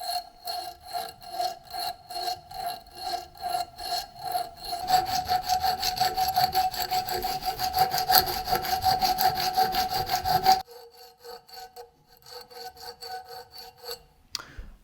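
A file works back and forth between the teeth of a stone carving tooth chisel, making steady, close, rhythmic rasping strokes that grow denser in the middle stretch before easing into sparser scraping.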